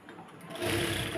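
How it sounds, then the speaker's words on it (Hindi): A sewing machine stitching a seam on palazzo pants, starting soft and then running at a steady, close, whirring pace for about a second. "और यहाँ सिलाई लगा देंगे।"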